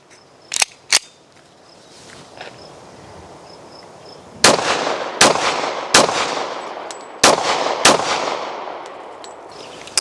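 Rapid fire from a Colt Commander 1911 pistol with a 4.25-inch barrel: two sharp shots, a pause, then five more loud reports in a steady, quick cadence, each followed by a ringing echo.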